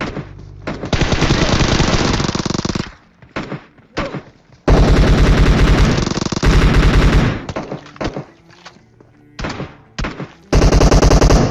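Loud, close automatic gunfire from the mobile battle royale game PUBG Mobile, long rapid bursts broken by short pauses, with several separate volleys firing back to back.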